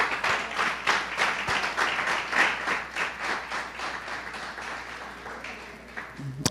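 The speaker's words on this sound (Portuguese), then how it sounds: "Dê uma salva de palmas ao Senhor." A church congregation at a Sunday service claps in a steady, fast rhythm. The applause fills the room, then gradually softens and thins out over about six seconds.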